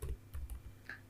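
Typing on a computer keyboard, a few quick close key clicks in a short burst, with no talking.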